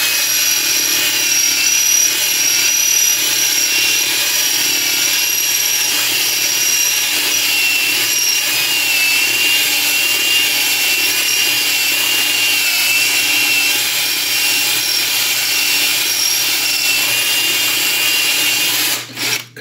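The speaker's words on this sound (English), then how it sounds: "I'm going in here on the legs and I'm using the 5/16 inch drill bit" A drill with a 5/16 inch bit reams and widens holes in wooden legs, a steady, loud, continuous whine that runs unbroken for nearly the whole stretch before cutting off at the end.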